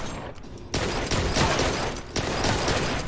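Rapid light-gun fire in the Blue Estate shooter game, a dense continuous burst of shots running almost unbroken, with a brief lull partway through, loud and close with no talking.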